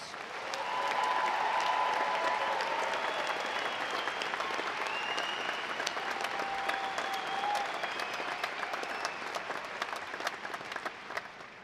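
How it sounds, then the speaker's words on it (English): Sustained applause from a commencement audience at the University of Utah's 2023 graduation ceremony, a broad, even roar of many hands clapping that swells early and slowly tapers. "audience, why don't we join in a round of applause for all of their amazing accomplishments"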